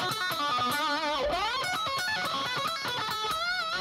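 Bluesy overdriven electric guitar solo with string bends and a touch of wah, playing fast continuous lead lines that bend and slide, loud and steady with no talk.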